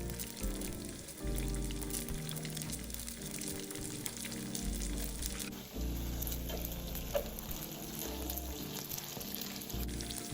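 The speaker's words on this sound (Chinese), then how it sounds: "油热后转小火，放入馄饨，待定型后再稍作翻动。" Frozen wontons filled with pork and lotus root deep-frying in hot oil over low heat: a quiet, steady bubbling and pattering fizz that continues evenly for several seconds, with no speech.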